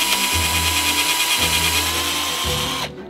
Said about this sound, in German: An die Balken schrauben.